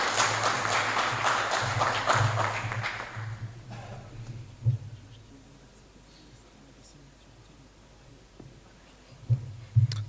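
Audience applause at the opening session of a 2018 employment forum conference in El Jadida, a dense wash of clapping for the first three and a half seconds that then cuts off, leaving a quiet room with faint thumps and rustles.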